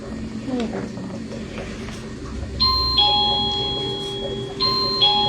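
A doorbell chimes twice in clear, sustained electronic tones, loud and close, over a background of indistinct voices and room noise.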